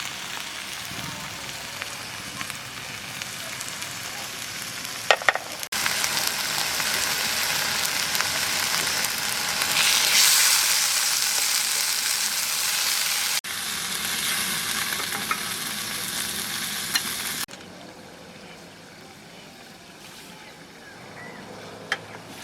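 Chopped tomato and coriander leaves frying in a pan for egg curry, a loud continuous sizzle with scraping stirring noises that softens toward the end.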